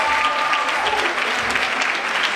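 Audience applause at a women's day event at a hotel in Port-au-Prince, steady and dense clapping throughout, close and loud, with faint voices mixed in.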